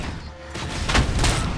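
Rapid gunfire in Robocop: Rogue City, a dense burst of sharp close shots cracking over a rumbling low backdrop and lasting about a second, with no talking.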